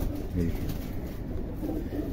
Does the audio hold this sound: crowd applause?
no